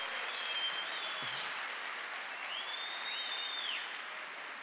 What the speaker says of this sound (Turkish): Şöyle toplu bir alkış hepsine.